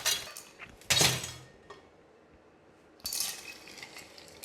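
Ice clinks and rattles in a mixing glass as a chocolate martini is stirred, two bright bursts of clattering ice separated by a quiet pause.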